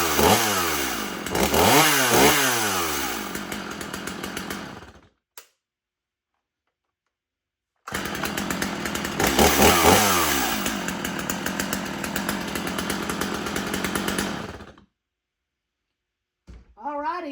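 A chainsaw being readied for firewood cutting runs hard in two long loud stretches with revving swells, cutting out to silence between them, and a person talks over it.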